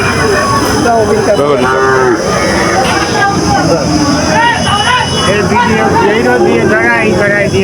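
Cows moo repeatedly at a busy Bangladeshi cattle market, loud overlapping calls near and far over a constant crowd hubbub, with people talking throughout.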